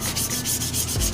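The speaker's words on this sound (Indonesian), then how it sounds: "Ini sudah saya amplas menggunakan amplas 360, juga menggunakan sabun krim untuk pembersih." Sandpaper rubbing old paint off a motorcycle body panel with 360-grit paper, a close, steady rasping scrape repeated in quick regular strokes.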